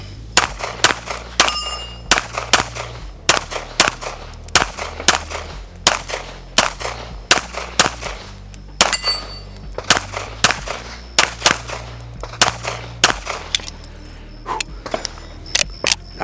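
Pistol shots from a Gibson Custom handgun at shooting practice, sharp loud cracks in quick bursts and single shots spread across the clip, with a low steady rumble underneath.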